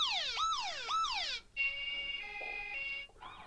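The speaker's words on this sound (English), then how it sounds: "If you go into here, turn that off, you've got different sirens." Electronic siren tones from an 8849 Tank Mini 1 rugged smartphone's emergency alarm: two rising-falling wails, then a steady high alarm tone with a lower pulsing beep, ending in another short siren sweep.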